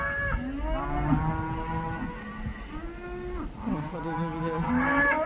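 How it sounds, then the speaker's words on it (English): Cattle on a ranch lowing on a cold, windy day, several long, loud moos close by one after another with little pause, and a person's brief words slipping in between. "Cows keep moving,"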